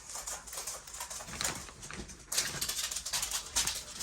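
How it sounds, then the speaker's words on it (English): A dog waking up indoors and shuffling about, soft scuffing and patting sounds of paws and body moving in close irregular bursts, with a few brief sharper rustles and no talking. "Oh, I woke the dog up."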